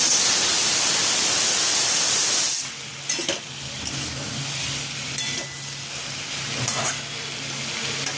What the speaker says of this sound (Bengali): কুমড়ো আলুটা ভাজা ভাজা হয়ে গেছে, ছোলাটা ভাজা ভাজা হয়ে গেছে। এবার দেখো ডাঁটাটা দিয়ে দিলাম।